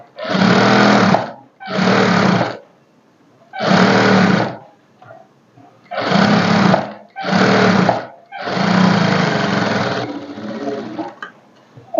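A sewing machine stitching a lined blouse, running loud and close in six or seven bursts of one to one and a half seconds each, separated by short pauses. The final run is longer and fades into quieter handling.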